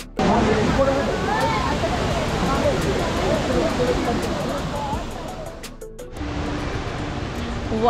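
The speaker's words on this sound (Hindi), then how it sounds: "देखो कितना ब्यूटीफुल और जायंट वाटरफॉल है" Bawli waterfall in Igatpuri, Maharashtra, a giant waterfall roaring continuously with dense rushing water noise, loud and close, with faint voices beneath.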